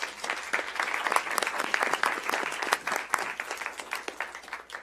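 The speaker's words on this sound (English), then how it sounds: "Let's give them all a round of applause." Audience at a board meeting gives a round of applause, a moderate, even wash of many hands clapping that continues steadily to the end.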